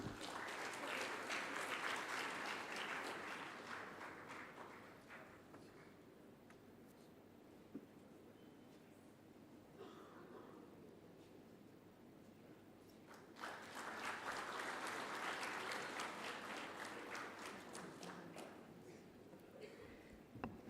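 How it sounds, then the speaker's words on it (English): A conference ceremony audience at a research conclave in India applauds during an on-stage felicitation, with steady, sustained clapping that swells, dips to a lower murmur midway, then rises again in a second wave, heard faintly and at a distance. "Can we please have a huge round of applause?"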